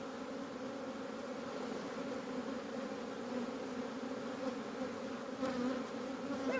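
Dense, steady hum of honeybees swarming an open hive during a summer dearth, a continuous close drone that swells slightly toward the end, with no voices.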